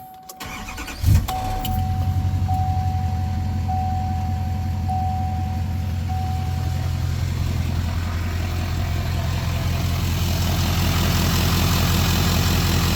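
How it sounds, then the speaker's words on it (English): A 2019 GMC Duramax L5P diesel truck engine cranks and fires with a loud catch, then settles into a steady, deep, close-up diesel idle that continues throughout. "I just want to start the truck"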